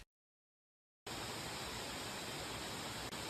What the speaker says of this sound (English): Waimoku Falls is a 400-foot waterfall and is the second tallest waterfall in Hawaii